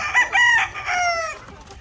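Chickens on a small farm, a rooster's crow with its drawn-out rising and falling call, loud and close, with no other voices.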